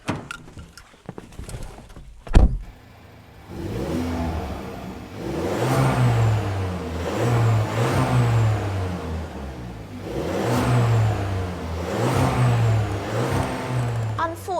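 A 2015 Volkswagen Polo Blue GT with a 1.4 litre engine is started and revved. A sharp thump comes first, then the engine rises and falls in repeated smooth rev sweeps with a moderately loud whirring drone and no other sound.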